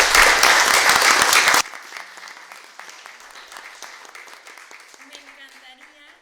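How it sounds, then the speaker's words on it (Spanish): An audience at a round-table panel gives loud, dense applause for about a second and a half, then it drops sharply into thinner scattered clapping that fades out while someone begins speaking. "aplauso."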